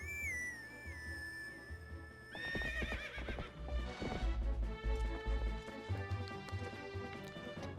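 A horse in Zelda Twilight Princess HD gives a loud, shrill whinny followed by heavy, rapid clip-clopping hooves and thumps, all close and dominant over faint background music.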